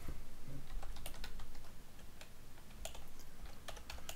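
Steady typing on a computer keyboard while filling in an online registration form, with a continuous run of close, quick key clicks and a few louder taps, no voices.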